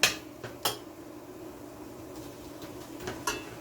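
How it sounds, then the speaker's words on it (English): Shrimp go into a pot of Jamaican curry with ginger and scotch bonnet peppers, heard as a few sharp metallic clinks and taps from pot and utensil amid quiet kitchen background. "So now I'm going to go ahead and add my shrimp."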